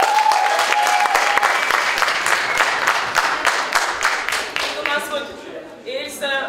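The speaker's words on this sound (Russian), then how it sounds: "громкими аплодисментами всех поддерживайте" Loud, dense audience applause during a student theatre performance evening at an arts institute, sustained clapping that gradually thins toward the end as voices and a tonal sound emerge over it.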